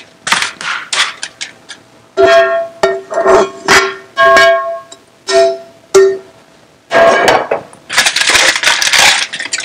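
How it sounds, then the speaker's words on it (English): Aluminum foil being folded and pinched closed into a pocket around lamb kabuli pulao ingredients, giving a run of close, crisp crinkling and crackling bursts with short pauses between them. "now I'm going to make a little pocket out of this aluminum foil"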